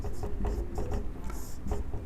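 Quick, rhythmic scratches of a hand writing out a chemical formula for copper carbonate, short strokes repeating several times a second, close and fairly quiet.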